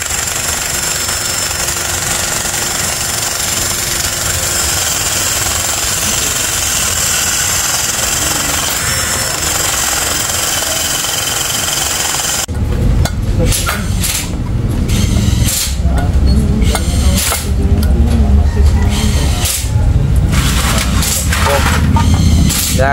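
A Suzuki Raider 150 FI motorcycle engine, just refreshed, runs steadily and loudly, first as an even mechanical drone, then turning rougher and more uneven with louder, choppier revving bursts in the second half.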